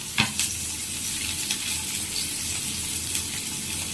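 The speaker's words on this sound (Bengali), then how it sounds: "প্রথমে একটা ফ্রাই প্যানে তেল পরিমাণ মতো দিব, তারপর পেঁয়াজ" Onion fries in oil in a frying pan, giving a constant, close hiss. Faint crackles and scrapes are scattered through it, and no one speaks.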